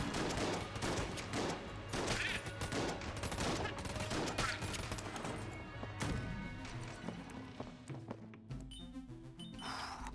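Rapid gunfire from the twin-stick shooter game Enter the Gungeon, dense bursts of shots and impacts firing continuously and loudly for the whole stretch with a little talk underneath.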